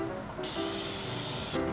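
Hairspray sprayed onto styled hair in one steady hissing burst of a little over a second, close and fairly loud, starting and stopping abruptly.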